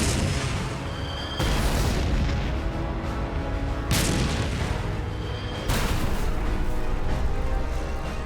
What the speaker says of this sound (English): The lead German tank opens fire with its main gun